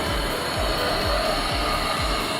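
Blowtorch flame roaring steadily while heating copper air conditioning pipe for soldering, a loud continuous broadband hiss close by with a faint low rhythmic thumping underneath, no voices.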